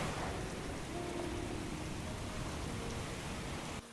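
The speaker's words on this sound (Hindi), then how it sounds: "बाहर आते ही ठंडी हवा और बारिश की बौछार उसके चेहरे पर पड़ी।" Steady rain shower blowing in cold wind on a dark night, a dense continuous wash of falling drops at even, close loudness throughout with no voices.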